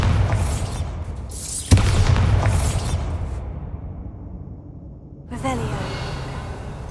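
A Bombarda blasting spell goes off in Hogwarts Legacy, one sharp booming burst followed by a rushing decay over a busy game soundscape, with a second whooshing surge near the end and a voice speaking faintly underneath.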